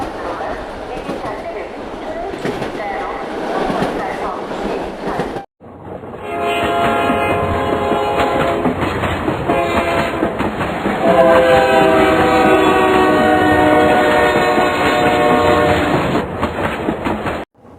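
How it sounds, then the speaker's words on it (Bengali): A train rolls along with a steady rumble and rhythmic clatter, then a long, loud sustained horn blares for much of the second half over the running noise. "ট্রেন চলছে"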